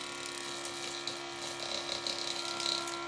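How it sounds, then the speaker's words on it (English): A second small electric motor whirs steadily in a model transmission setup with three towers and an incandescent lamp, running on 18.5 volts, giving a close, continuous mechanical hum with a faint ratcheting gear rattle. "Actually starts up the second motor pretty good."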